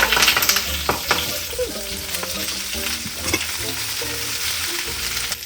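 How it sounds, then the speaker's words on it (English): Chopped greens hitting hot olive oil in a pan set up a loud, dense sizzle that crackles steadily, with stirring and a few clatters on top. "My pan is hot. I've added a little bit of olive oil. My greens are chopped. I'm gonna go ahead and put those in."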